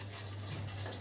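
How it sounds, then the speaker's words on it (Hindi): Tadka tempering for chana masala sizzles steadily in a pan while being stirred, a continuous close frying hiss with soft scraping, no talking. "तो ये मेरा तड़का जब तक भून रहा है, थोड़ा सा मैं इसको हिला देती हूँ"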